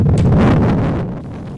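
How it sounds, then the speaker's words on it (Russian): Strong wind gusting across a ski stadium, a loud, steady low roar buffeting the microphone throughout, easing slightly toward the end. "Несмотря на сильный ветер"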